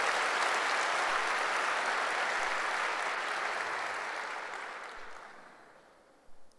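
A church congregation at a Sunday service applauds in a dense, sustained wash of clapping that gradually fades out toward the end.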